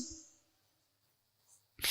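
A single sharp human sneeze bursts out loudly at the end, preceded by a faint intake and near silence.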